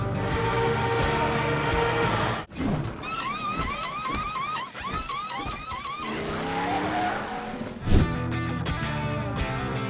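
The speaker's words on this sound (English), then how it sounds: "A lightning speed pit stop looks like this." Race car engines whine and rev close by during a pit stop, with tire squeals and a burst of mechanical clatter, then a sharp bang near the end.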